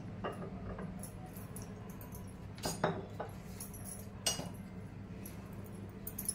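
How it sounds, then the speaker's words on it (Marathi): Cabbage manchurian ingredients are mixed in a bowl, heard as soft scattered clinks and scrapes of a utensil against the bowl over a quiet background, with a couple of sharper knocks. "आणि सर्व मिक्स करून घ्यायचं आहे।"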